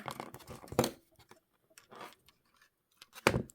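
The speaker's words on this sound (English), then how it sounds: "we'll cut that wire" Jewellery wire is cut during pendant making, giving a few sharp, close snips with light handling clicks and quiet gaps between them.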